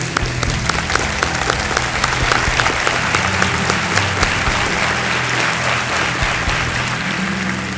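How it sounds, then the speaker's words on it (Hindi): Studio audience on the Kaun Banega Crorepati quiz show applauding to welcome a contestant's partner, a dense, sustained roar of clapping that stays loud and even from start to finish. "तालियों के साथ इनका हम स्वागत करते हैं"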